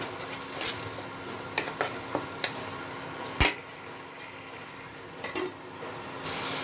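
Tomato paste frying in oil in a pan for Bengali dum aloo, a soft low sizzle under scattered clinks and scrapes of a spoon against the pan, with a few sharper knocks.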